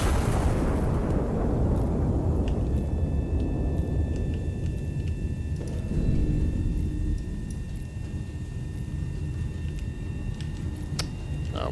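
A heavy turret cannon in the game Iron Nest fires one massive, loud round, and the booming blast decays into a long rumbling tail that fades over several seconds with faint mechanical tones afterward.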